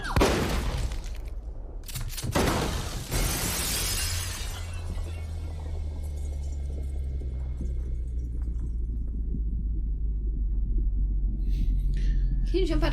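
Glass shatters loudly in a scene from the TV series Watchmen, a sharp crash of breaking panes followed by a long low rumble and hum that fades slowly with scattered faint debris.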